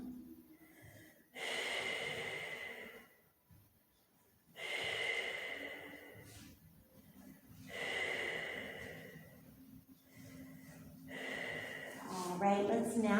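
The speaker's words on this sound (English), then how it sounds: "deep breaths in and out." Slow, deep yoga breaths in a child's pose, long airy inhales and exhales in a steady cycle of about four, close and fairly loud, ending with a brief vocal sound.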